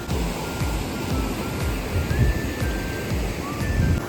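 Steady rushing river water flows continuously nearby, a dense broad roar with no voices.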